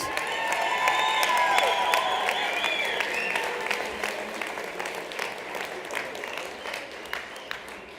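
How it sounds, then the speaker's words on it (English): An audience at a winter speaker event bursts into dense clapping with scattered cheers and whoops, loud at first and then gradually thinning toward individual claps. "Let's give them a big round of applause"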